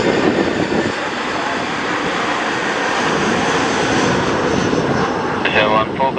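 Aircraft engines roar steadily at Bali airport during busy afternoon traffic, a loud continuous jet-engine drone throughout, with speech present over it.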